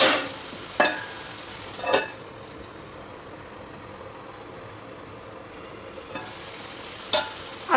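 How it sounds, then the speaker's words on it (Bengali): Potatoes frying under a lid in a covered pan, a steady low sizzle with a few sharp clattering knocks of the lid or spatula spaced through it. "ঢাকা দিয়ে ভাজছি, কারণ ভেতর থেকেও সিদ্ধ হবে আলুটা"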